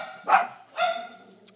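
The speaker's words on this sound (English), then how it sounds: "we gotta love those dogs" A dog gives two loud, close barks about half a second apart, followed by a faint short yip.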